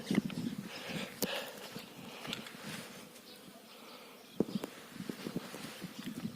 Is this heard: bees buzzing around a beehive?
yes